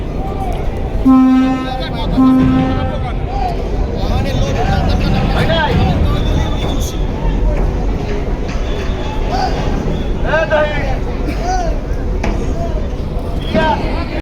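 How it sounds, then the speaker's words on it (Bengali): The passenger launch Parabat 18 goes into reverse on a river, its engine churning low and steady beneath two short horn toots and a busy murmur of voices on deck. "ব্যাক গিয়ার দিয়ে দিল পারাবত আঠারো লঞ্চ"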